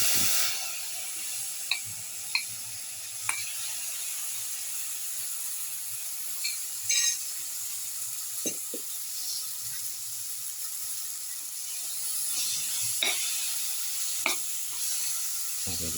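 Tomato paste sizzles steadily in a hot pan for okra and tomato casserole, a constant frying hiss broken by several sharp scraping stirs and clinks, close and alone without talk.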